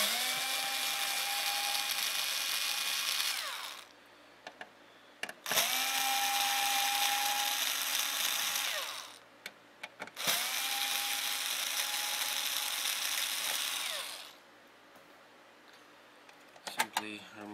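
A small electric screwdriver backs out screws from an Xbox 360 DVD drive, three long whirring runs with a rising pitch, separated by short pauses and faint clicks.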